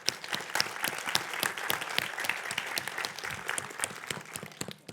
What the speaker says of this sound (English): big round of applause for Mathieu Ropert.